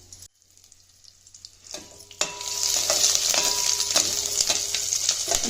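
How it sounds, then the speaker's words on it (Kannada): Sesame seeds with green and dry chillies fry in a hot pan, a steady close sizzle swelling louder after a brief quiet start, with occasional scrapes and clinks of stirring. "ಒಂದ್ಸರಿ ಚೆನ್ನಾಗಿ ಈ ರೀತಿ ಫ್ರೈ ಮಾಡ್ಕೊಳ್ಬೇಕು."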